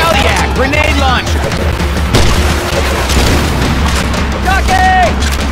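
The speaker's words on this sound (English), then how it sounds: "Fire time. Hell yeah, grenade launch." Grenade launcher firing in the Left 4 Dead 2 video game, a loud booming blast amid dense gunfire and game clamor, with voices shouting over the chaos.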